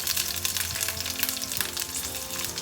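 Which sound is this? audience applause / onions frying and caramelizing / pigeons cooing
onions frying and caramelizing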